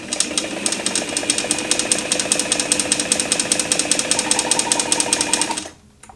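A model 237 sewing machine stitches through a single layer of fabric with a fast, steady mechanical chatter. It runs close and loud for about five and a half seconds, then stops abruptly.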